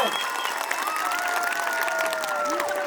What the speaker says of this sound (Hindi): सब लोग तालियां बजाइए।